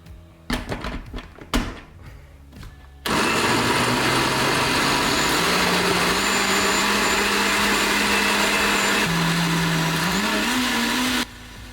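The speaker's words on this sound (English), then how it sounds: "This blender is so shit," A household blender runs loud and steady for most of the stretch, its motor pitch creeping upward near the end before it cuts off; a few brief knocks and clatters come first.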